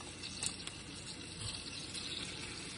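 Water from cooked ravioli pours into a sink as the pasta is drained, a faint, steady rushing stream with a few light clinks and no talking.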